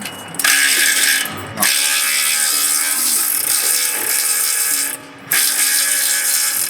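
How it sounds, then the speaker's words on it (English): A loud power tool whirs and rattles continuously while undoing bolts on a BMW G30, with two brief pauses where it stops and restarts. "It does help to have power tools, makes it way easier and quicker."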